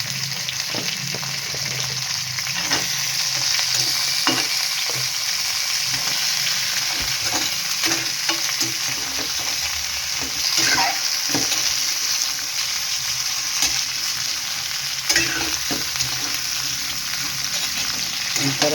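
Alamasag crabs frying in a pan, a loud continuous sizzle with frequent stirring scrapes and knocks, steady throughout and without talking.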